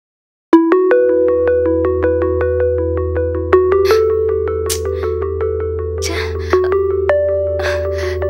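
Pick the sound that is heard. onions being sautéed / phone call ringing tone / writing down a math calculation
phone call ringing tone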